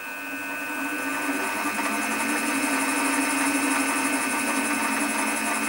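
A machine spins a tap at about 200 RPM with cutting fluid, threading a hole for a Helicoil insert; a steady, loud motor hum and whine run without a break, with no talking.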